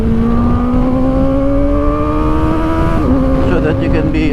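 A Kawasaki Ninja ZX-4RR motorcycle rides at speed on a wet, rainy road, its engine a loud, steady high drone that holds, dips briefly, then climbs again, with road and wind noise filling the background.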